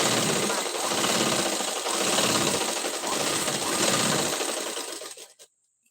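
A sewing machine topstitches a princess-cut blouse panel, a close, rapid mechanical whirr that runs in a few long stretches with slight slowdowns, then stops abruptly near the end.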